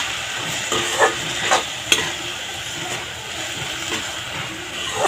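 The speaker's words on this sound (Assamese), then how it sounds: "এতিয়া গোটেইখিনি মিহলাই মই ভালকৈ ভাজি ল'ম" Green banana frying in a pan with cumin, coriander powder and red chili powder gives a steady, close sizzle, with occasional scraping stir strokes and no talking.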